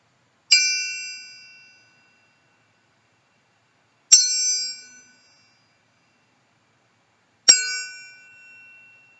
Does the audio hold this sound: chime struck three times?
yes